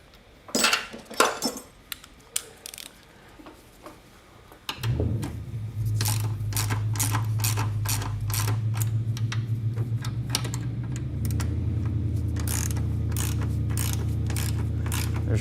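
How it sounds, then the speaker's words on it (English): Ratchet wrench clicking in rapid bursts on the rear sway bar of an EM1 Honda Civic Si, first scattered metallic taps, then steady ratcheting over a continuous low hum. "tighten that sway bar when you're done"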